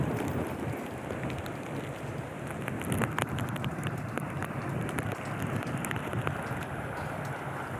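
Heavy monsoon rain pours steadily in Raigad district, a dense, continuous hiss of water with low rumbling wind, fairly distant and even throughout, no voices.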